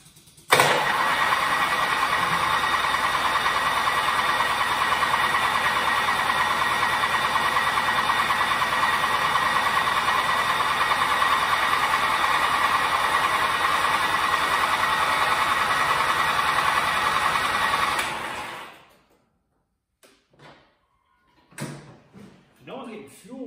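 A car engine runs steadily after a jump start from a TOPDON V1200 mini battery jump pack, a loud continuous drone for about eighteen seconds that then cuts off, leaving a few faint knocks and rustles.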